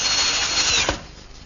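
A power drill drives a screw into MDF blocks with a short loud whirring burst that winds down abruptly.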